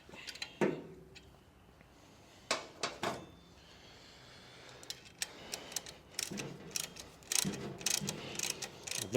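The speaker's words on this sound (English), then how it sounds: "I've never really used these ratchet spanners" Ratchet spanner clicking on a bolt while working on an abandoned crane, with scattered sharp mechanical clicks and short ratcheting bursts, close and moderately loud, no talk.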